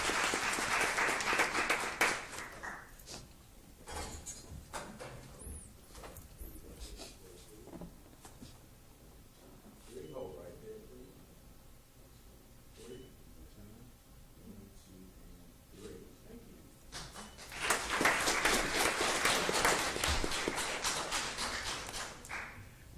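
Applause at a Jackson Public Schools board meeting honoring C-rated schools: a burst of clapping at the start, a quieter stretch with scattered taps and murmurs, then a loud full round of clapping returning near the end.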